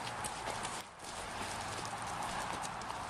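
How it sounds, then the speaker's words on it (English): Sheep running on a farm, their hooves drumming in a dense, rapid patter over the ground, steady and fairly close with a brief lull partway through, and no talk over it. "Let's get to see some of these running sheep in action."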